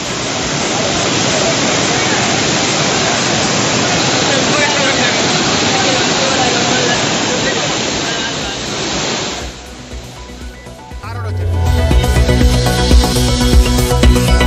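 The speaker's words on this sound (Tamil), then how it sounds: "விருதுநகர் சதுரகிரி ஓடையில் வெள்ளப்பெருக்கு." Floodwaters surge down the Sathuragiri mountain stream in Virudhunagar, a loud, dense, continuous roar for about nine seconds before it drops away and other sound takes over.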